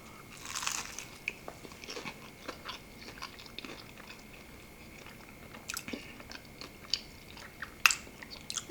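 Crunchy bites of Church's Texas Chicken fried chicken batter, a series of faint, close crisp crunches and chewing sounds scattered through a quiet stretch, with a sharper crunch near the end and no talking.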